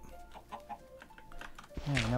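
Chicken in the Minecraft video game giving a few soft clucks under quiet talk, followed by a louder, brief squawk at the end.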